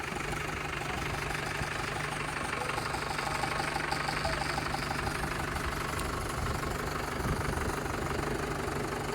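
A 2012–13 model tractor idles close by, with a continuous, even diesel rumble and a fine knocking rhythm that holds steady for the whole stretch, with no talk over it.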